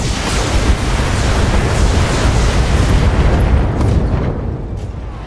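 Mech weapons firing and impacting in Battletech, a dense, loud barrage of booming blasts and explosions rumbling continuously, thinning out toward the end.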